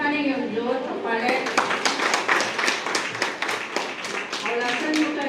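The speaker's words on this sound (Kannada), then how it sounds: "ನನಗೆ ಒಂದು ಜೋರು ಚಪ್ಪಾಳೆ." Audience applause at a monthly Sharana Seva Samiti programme in Sanjayanagar attended by a Padma Shri awardee: dense, steady clapping swells after a moment of talk and fills the room, with voices returning faintly at the end.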